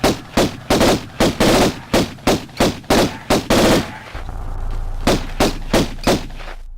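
Lara Croft's pistols fire at bats in Tomb Raider 1, a loud, close, rapid string of evenly spaced gunshots. There is a short pause with a low hum before a few more shots ring out, and no one speaks.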